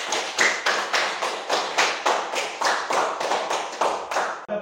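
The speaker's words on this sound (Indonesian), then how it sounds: "Begitu kita berikan aplaus untuk kegiatan kita pada pagi hari ini." A classroom of children claps in unison, a loud, close, rhythmic burst of about a dozen evenly spaced group claps, with no talking.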